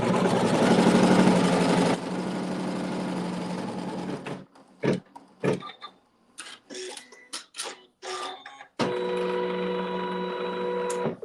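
A sewing machine runs steadily while stitching a fabric seam at a log cabin quilting workshop, then pauses and restarts in a few short bursts before settling back into a continuous whirring run.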